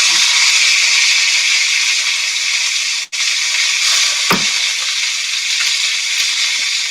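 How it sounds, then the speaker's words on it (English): Eels browning in a hot frying pan for eel soup, giving a steady, loud broadband sizzle and hiss that runs throughout, broken by a brief dropout and a small clatter partway through. "I'm going to pop these in the pan just to start browning them off a little bit."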